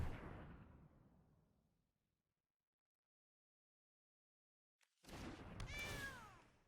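Cat meow effect from a creature card being played in the MTG Arena digital card game, heard as a short bright meowing burst near the end after a long silent gap, following an earlier fading rumble.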